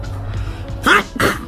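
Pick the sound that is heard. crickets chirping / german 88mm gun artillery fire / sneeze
sneeze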